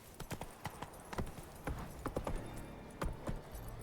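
Roach, the horse in The Witcher 3: Blood and Wine, moving at speed in the game, with rapid uneven hoofbeats over a faint ambient bed, quiet and without talk.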